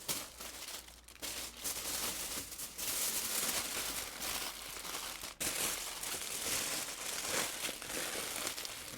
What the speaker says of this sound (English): I'm going to wrap it with foil, double wrap it,